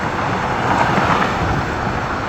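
Loud, steady roar of highway traffic right beside a broken-down car on the roadside, a dense continuous wash of passing vehicles with no pauses and no talking.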